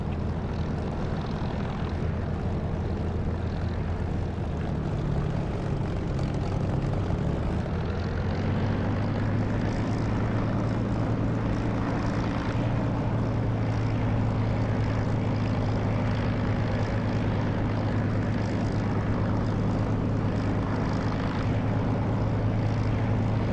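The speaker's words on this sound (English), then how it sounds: "I'm in a Spitfire LF Mark 9 and I'm about to take off. Just taxiing to runway." Spitfire LF Mk IX piston engine in the DCS flight simulator while taxiing to the runway, a loud, continuous propeller drone that shifts pitch partway through and then holds steady.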